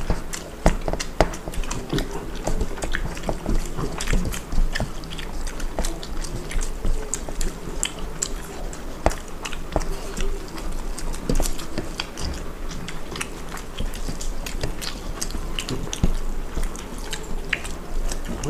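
People eat mutton fat curry, egg curry and rice, with constant close, wet chewing, squishing and smacking mouth sounds forming a dense, busy rhythm throughout, loud and near, with no clear talk.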